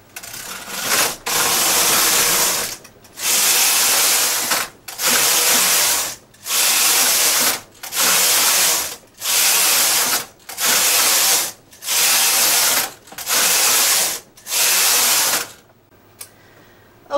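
Knitting machine carriage sliding back and forth across the needle bed, knitting rows of a garment toward the armhole: about ten loud, even rasping passes, each roughly a second long with brief pauses between, no talking.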